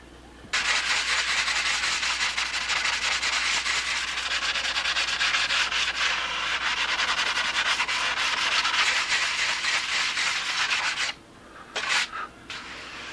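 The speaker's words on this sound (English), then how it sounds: "I'll get this all sanded down and we're ready to start doing cap strips." A wooden part for a Strega 7 model is hand-sanded with continuous, close, raspy rubbing strokes that fill most of the clip, then break into a couple of short pauses and a few final passes near the end.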